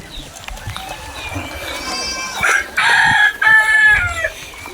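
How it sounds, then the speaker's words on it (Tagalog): A rooster crows loudly and nearby, a long rising and falling call, with fainter bird calls and light rustling around it. "tatlong ibon na ibibigay natin sa kanya"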